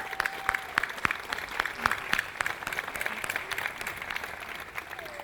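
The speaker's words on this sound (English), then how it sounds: "can we have a round of applause for" Sustained applause from a large audience at a college opening convocation, steady crisp clapping spread evenly through the clip with no voices over it.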